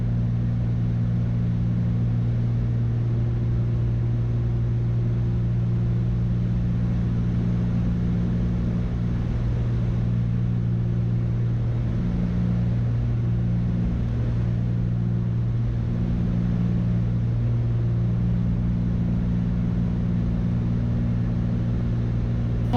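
A twin-engine Cessna turning onto base for runway 18 at Portage, heard from inside the cockpit as a loud, steady engine drone with a deep, even hum that holds unbroken from start to finish.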